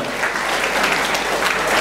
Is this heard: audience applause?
yes